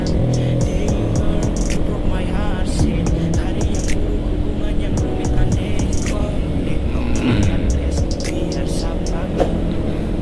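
A dense stream of motorcycles fills a busy road heading out from Bekasi, engines droning and buzzing continuously close by with scattered horn beeps, while a rider talks over the traffic noise.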